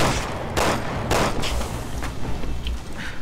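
Enemy gunfire in the Resident Evil 6 video game, shots from flying enemies: several loud, sharp bursts of game gunshots over a steady rumbling background, with no talk.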